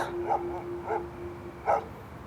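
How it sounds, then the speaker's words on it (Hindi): Dogs bark three times in short, separate bursts, moderately distant, over a steady low hum with no talking. "ये कुत्ते क्यों इतना भौंक रहे हैं?"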